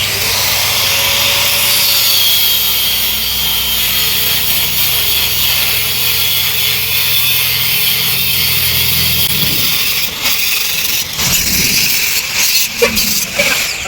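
A saw cuts steadily into an electric scooter battery pack, a loud, continuous grinding rasp close by that breaks into choppy scraping and knocks toward the end.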